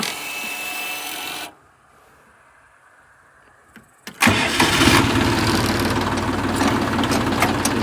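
The engine of a motorized potato digger starts: an idling run cuts out, a brief quiet follows, then a loud cranking catch and a steady, close, rough running drone.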